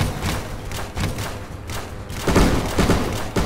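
Explosions of planes blowing each other up in a chain reaction in a flight video game, a run of dull booming thuds and bursts that grows louder and denser toward the end.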